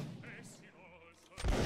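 A single loud gunshot bursts out at the end, during a line battle video game, following a stretch of quieter game ambience.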